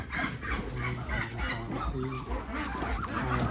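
A crowded flock of ducks honking and quacking loudly and continuously, close by, with constant overlapping calls and no clear talking.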